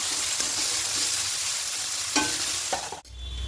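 Vegetables for vegetarian fried rice, including carrots with green chillies, stir-fried over a medium flame: a steady close sizzle with a few scraping stirs of the spatula, and the hiss briefly cuts out near the end before resuming.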